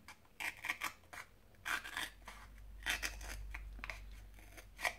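Paper snipped with scissors to make a hole for an Easter bunny place card, several separate crisp cuts and rasping scrapes, close and fairly soft, with pauses between them.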